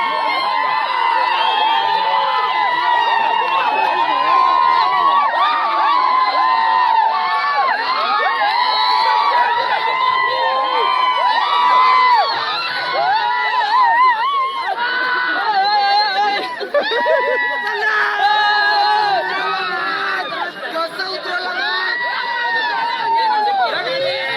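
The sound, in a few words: crowd celebrating a bullock cart race win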